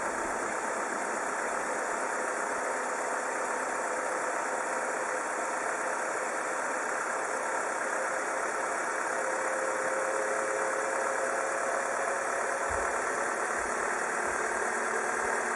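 A Renault car engine idles steadily with its automatic gearbox shifted into reverse, a constant low hum and faint vibration, continuous and fairly close, with no talking over it.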